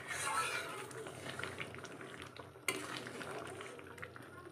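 Chickpeas cooking with goat fat in a pot, bubbling and sizzling steadily with occasional stirring scrapes and one sharp clink, moderately close, with no talking.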